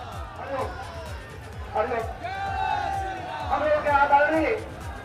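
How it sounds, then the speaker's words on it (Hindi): A noisy crowd at a Holi procession for Lord Narasimha in Gorakhpur, a busy babble of many voices with shouts rising and falling, while nearby speech runs over it throughout. "वहां शोरगुल भी बहुत ज्यादा है, भीड़ भी बहुत ज्यादा है।"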